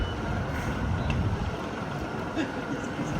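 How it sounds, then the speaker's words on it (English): A double-decker or single-deck service bus reverses off its stand at Ipswich bus station, a steady close engine drone with faint intermittent high beeps over a continuous low rumble. "just reversing off the stand there"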